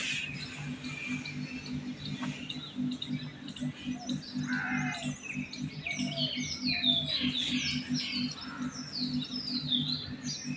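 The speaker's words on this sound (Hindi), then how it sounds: "चिड़िया की आवाज़ कितनी प्यारी है।" Many small birds chirp and tweet in quick, overlapping calls around rural fields and hills near Bilaspur, bright and fairly close over a steady low hum, with no talking.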